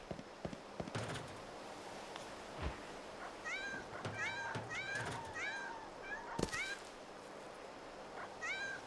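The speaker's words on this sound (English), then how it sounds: "Why were those cats going super nuts?" Cats from Lightning Returns: Final Fantasy XIII meow and yowl agitatedly in a series of rising chirping calls, clustered mid-clip and returning near the end over a noisy game backdrop with scattered thumps.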